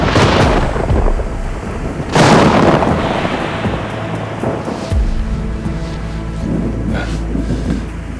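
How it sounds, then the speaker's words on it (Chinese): A thunderstorm brings deep, booming thunder, with loud rolling cracks near the start and again after two seconds, followed by a steady wash of rain and a lingering low rumble. "种大雷雨来得快去得快"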